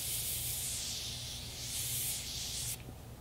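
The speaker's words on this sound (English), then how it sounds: "So I'm just gonna use some setting spray" Makeup setting spray misted onto a face in two continuous close hissing bursts lasting almost three seconds, then a sudden cutoff to quiet.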